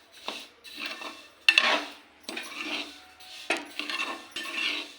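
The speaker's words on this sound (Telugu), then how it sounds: "రాగుల్ని ఈ విధంగా వేయించుకోవాలి." Finger millet (ragi) is roasted in a pan and stirred in repeated scraping strokes, the spoon rasping and clinking against the metal in an uneven rhythm, close and clear with no talking.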